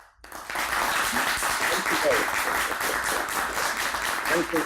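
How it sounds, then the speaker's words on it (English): An audience at a Kotlin users group Q&A bursts into sustained, dense applause that stays loud and even throughout, with a few faint voices underneath. "So big applause."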